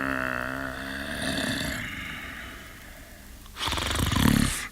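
A heavy sleeper gives deep, rumbling snores, a long drawn-out breath followed by a louder, harsher snort-like snore near the end, close and alone.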